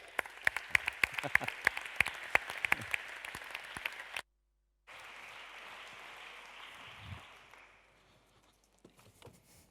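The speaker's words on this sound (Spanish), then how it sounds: "Recibámoslo con un fuerte aplauso." Forum audience applauding to welcome a speaker, dense clapping for about four seconds, then a brief gap and a softer wash of crowd noise that fades, with faint taps near the end.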